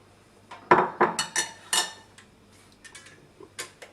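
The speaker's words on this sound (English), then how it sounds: "Take your sugar next and add that to your butter." Sugar tipped into butter in a mixing bowl produces a series of quick clinks and scrapes against the bowl, close and fairly quiet, in short irregular bursts with pauses between.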